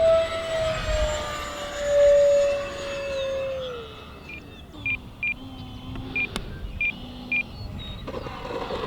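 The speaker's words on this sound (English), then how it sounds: "I just got done flying and maidening the brand new Habu XS." A Habu XS RC electric ducted-fan jet whines overhead, its pitch sliding downward as it passes and fades, followed by a run of short evenly spaced electronic beeps against outdoor background noise.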